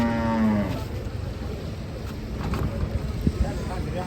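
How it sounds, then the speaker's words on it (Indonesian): A giant cow lets out a long, loud, low moo close by at the start, the lowing then fading into steady background rumble with a brief knock near the end while people talk faintly. "Kedatangan sapi raksasa guys."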